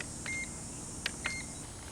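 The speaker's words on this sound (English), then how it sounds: "So 1 beep is low rate, 2 beeps is high rate." A Drocon Cyclone X708W drone remote controller beeps for its rate setting: a couple of short, thin electronic beeps close by, separated by brief gaps over a steady background hiss.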